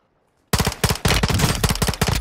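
Rapid bursts of close, loud automatic gunfire in Call of Duty: Modern Warfare II, erupting suddenly after half a second of silence and continuing in sharp, repeated volleys.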